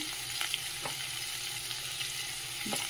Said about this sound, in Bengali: উচ্ছে ভাজাও হয়ে এসছে